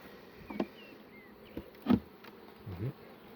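Honeybees buzzing around a beehive, a few individual bees passing close in short separate buzzes over a low, steady background hum.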